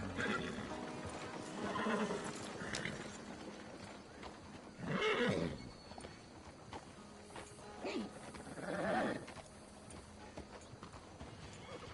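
In Red Dead Redemption 2, a horse lets out several loud whinnies and snorts in separate bursts over a background of hooves and ambient game sound, with no talking.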